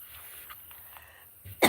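One sharp, loud cough bursts out near the end after a moment of near silence.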